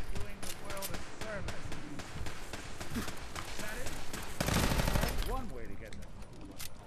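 Turret gunfire in Fallout 4 rattles in quick, sharp bursts amid game sounds, with someone talking over much of it.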